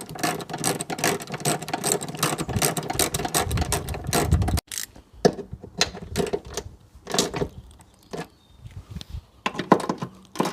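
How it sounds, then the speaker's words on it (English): Metal brackets for the radiator on a Toyota MR2 Mk2 are being refitted, with a dense burst of ratcheting clicks followed by scattered sharp metallic taps and clanks close by, no speech. "So I'm just reinstalling these radiator brackets."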